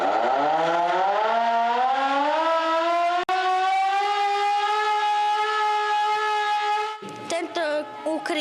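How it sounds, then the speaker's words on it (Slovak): A civil defense siren in a shelter winds up from low to a loud, steady wail, then cuts off into clattering, choppy noise as it winds down. "Pozor, spúšťka sirén."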